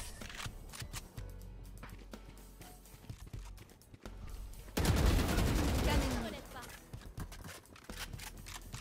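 Burst of rapid gunfire in the tactical shooter Valorant, played on console, erupting loud for about a second mid-clip amid game noise and clattering footsteps.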